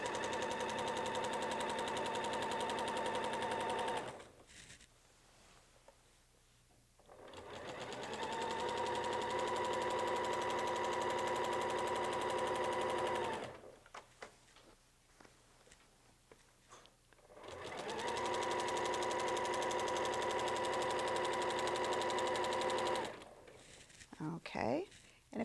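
A sewing machine runs steadily while stitching across a quilt held in a Weightless Quilter anchoring setup, in three sustained bursts of humming motor with short quiet pauses between them.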